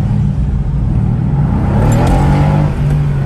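A car engine roars loudly through its exhaust, revving steadily with a deep, rumbling growl that swells briefly in the middle.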